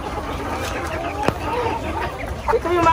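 Chickens on a meat-type poultry farm clucking and calling around, with scattered bird calls over a busy background and people talking nearby.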